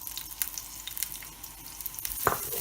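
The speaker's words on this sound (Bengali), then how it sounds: "এখন আমি এর ভিতরে এই 1 কাপ পেঁয়াজগুলা দিয়ে দিব" A cup of onions sizzles and crackles in a hot pan with a little oil, a steady fry broken by scraping stirs near the end, with no voices.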